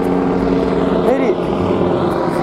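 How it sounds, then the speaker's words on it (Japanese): Air ambulance helicopter flying over a beach, its steady rotor and engine drone loud and continuous throughout, with a brief pitch shift as it passes overhead amid wind noise. "ドクターヘリ。"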